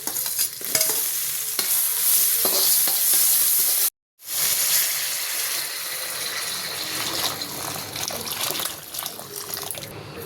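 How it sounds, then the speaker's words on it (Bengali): Finely chopped garlic sizzles and fries in a pan while being stirred, a bright continuous hiss with scraping stir strokes, broken by a short silent gap midway, no talking. "এটা একটু সটে করে সব কিছুর সাথে মিক্স করবো।"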